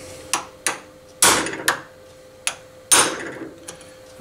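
A hammer strikes a caster's stud to peen it over and hold the bearing race, about seven sharp metallic blows landing at an uneven pace, each close and loud with a short ring.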